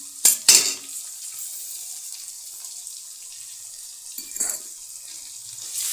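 Chopped tomatoes cooking with sugar in a pan over a medium gas flame give a soft, steady sizzle, with a couple of sharp stirring scrapes near the start and another brief clatter toward the end.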